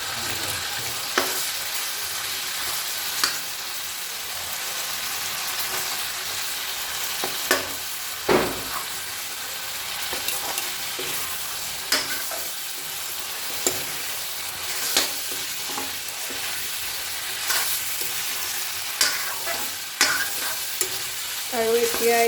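Pork and bhut jolokia chilies stir-fried in a pan, a steady loud sizzle with a spatula scraping and clacking against the pan every second or two, no voices.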